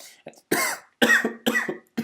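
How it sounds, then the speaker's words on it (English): Several harsh coughs in quick succession, close and loud, four bursts over about two seconds. "I've been having a cough"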